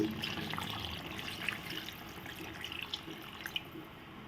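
Water trickling and dripping as it is poured into a Rayalaseema-style country chicken curry with salt and chili, a steady faint liquid sound with a few small splashes, no talking.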